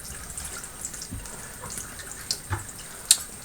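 Water runs and splashes while an Eheim 2213 aquarium filter canister is rinsed out, a faint steady trickle with a few louder drips and knocks against the plastic toward the end.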